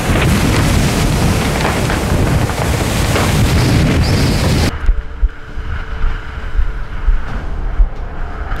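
Loud, buffeting 25–30 knot wind roars across the microphone over rushing sea water aboard a racing sailboat for several seconds, then drops abruptly to a quieter rumble of water and hull noise.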